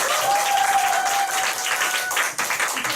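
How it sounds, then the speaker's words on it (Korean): An audience applauds steadily at a Nu Skin business seminar. The dense clapping fills the hall for about three seconds, and a faint tonal hum runs underneath. "다시 한번 큰 박수 부탁드립니다"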